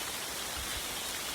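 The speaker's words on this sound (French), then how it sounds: "Grosse averse." Heavy rain downpour in a forest, a steady broadband hiss of falling water with no distinct drops, moderately faint and unbroken throughout.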